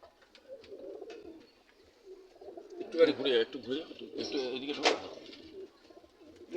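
Pigeons coo softly nearby in a pigeon keeper's loft, with low, throaty, repeated calls mixed in with people talking.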